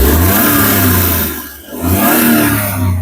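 A car engine revving hard while accelerating, loud and close with a steady droning roar that briefly dips in the middle before climbing again.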